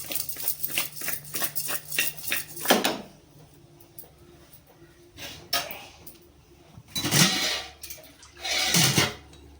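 Water is poured into a pot of mutton curry with onion, turmeric and salt, arriving in a few splashy bursts between quieter pauses in a home kitchen.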